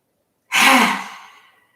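One forceful breath pushed out through the mouth during yoga breathing practice, a close, loud, airy whoosh that starts abruptly and trails off over about a second, with silence around it.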